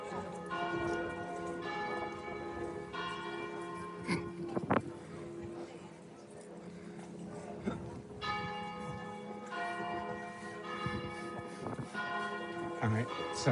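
Church bells ring out in Modena, Italy, in several bursts of repeated peals over a busy outdoor street ambience, with people talking nearby and occasional knocks and clatter.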